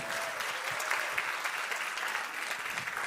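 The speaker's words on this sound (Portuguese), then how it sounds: "mais uma vez, uma salva de palmas para Raquel" Audience at a panel on Northeast Brazil memory applauds steadily, a dense wash of clapping heard from a distance, fairly faint and even from start to finish.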